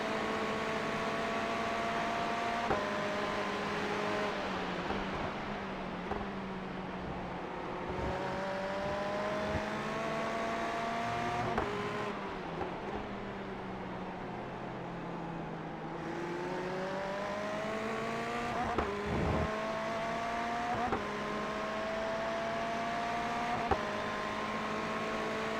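Race car engines in an iRacing GT3 race at the Nürburgring, with an AMG passing: a continuous, loud engine drone whose pitch climbs and falls as cars accelerate and lift, with several machines overlapping and no talk.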